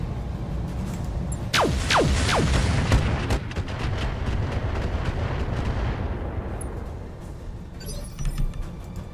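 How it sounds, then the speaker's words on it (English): Rapid bursts of heavy weapons fire and booming blasts in a video game, loud and dense over a steady rumbling din for most of the stretch, with whistling streaks early on and the barrage thinning toward the end. "Firing all weapons."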